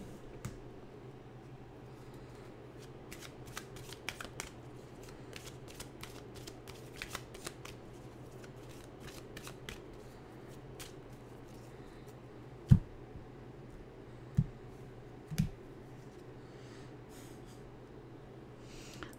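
A deck of animal cards is shuffled in a quiet room, giving soft, faint riffling patters scattered over many seconds, with a few sharper taps standing out later on.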